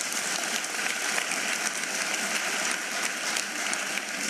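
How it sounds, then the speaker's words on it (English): Sustained crowd applause, dense and even, many hands clapping steadily throughout with no pause. "Let's give them a big hand of applause."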